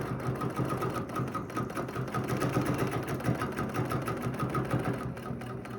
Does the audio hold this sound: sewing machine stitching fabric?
yes